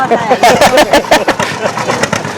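An old John Deere tractor, a 1952 model B, chugs along in a Christmas parade, its mid-pitched engine running steadily beneath nearby people talking over it throughout.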